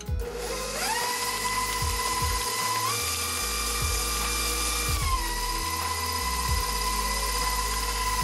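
Electric mixing machine churning plantain cake batter, a loud steady motor whine with shifting pitch and rhythmic knocking from the beaters, close and continuous with no voices.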